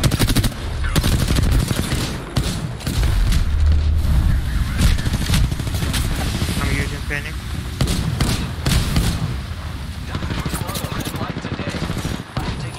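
Repeated gunfire crackles through an Apex Legends match at World's Edge, fast automatic bursts and single shots rattling throughout alongside speech from a player.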